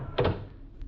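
A drawer slides open with a pair of quick wooden thunks and a rattle in a 1950s–60s suspense radio drama, fairly close and alone, followed by a faint later knock.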